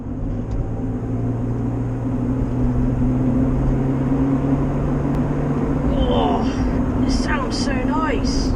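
A Rover car with a V6 engine is driven, a steady low engine drone and road rumble filling the cabin while a person talks over it throughout.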